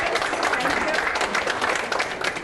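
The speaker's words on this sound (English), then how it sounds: "Give them a round of applause." A conference workshop audience claps in a loud, brief burst of applause that continues throughout, with a voice talking over it.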